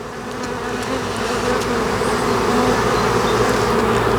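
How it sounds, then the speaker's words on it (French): A swarm of honeybees just shaken from a branch fills the air with a dense, continuous buzzing drone that swells slightly and holds steady, close and loud with no talk. "Dès l'instant que j'ai secoué l'essaim, elles sont toutes parties."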